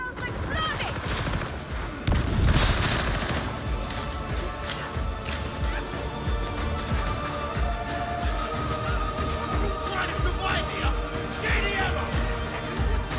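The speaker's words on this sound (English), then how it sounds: "The barrel's exploding!" Gunfire and explosions in the game Warhammer 40,000: Darktide, with a burst of blasts as a barrel explodes around the two-second mark, then continuous shooting, clatter and game voices throughout.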